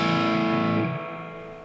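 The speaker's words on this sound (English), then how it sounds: "I just wanted to plug in the DS1 to see what that sounds like" A chord rings out on an electric guitar through a Boss DS-1 distortion pedal, sustaining loudly then dropping and fading as the strings decay.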